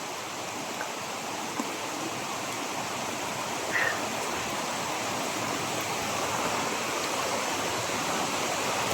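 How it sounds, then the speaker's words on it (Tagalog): Heavy rain pours down on a mountainside as a steady, dense wash of noise, constant and enveloping with no clear breaks and no voices. "Pero grabe yung lakas ng ulan talaga."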